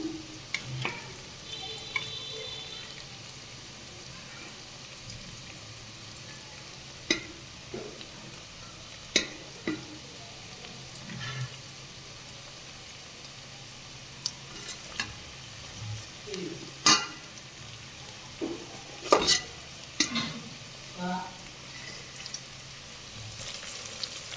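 Onions and pistachios fry in a pan at a faint, low sizzle, while a utensil stirs them in scattered scrapes and clicks that grow busier toward the end.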